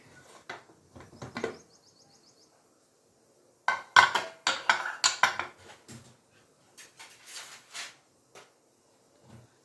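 A pressure cooker opened after whistling while cooking sambar with dal and tomatoes: a run of metallic clanks, scrapes and lid rattles in bursts, close and fairly loud, with quiet gaps between.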